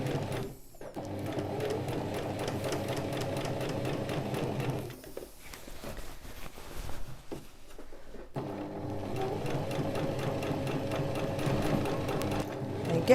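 A sewing machine stitches along the edge of skirt fabric, a steady close mechanical whir in two long runs separated by a pause with a few handling clicks.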